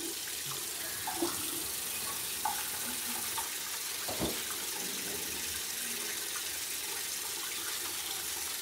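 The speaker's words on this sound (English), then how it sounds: "Now I just gotta wet my head a little bit more." Tap water runs steadily into a sink while hair is wet under it. A faint, even splashing stream carries on for several seconds, with a few soft bumps and no talk.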